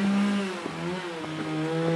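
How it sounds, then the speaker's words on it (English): A chainsaw drones in a village in Posen, Germany, its motor whining in a sustained tone that dips and rises slightly as it works, heard at a moderate distance and loud enough to stay clear throughout. "Oh, give it a rest with the chainsaw"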